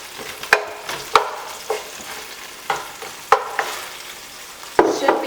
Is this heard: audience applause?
no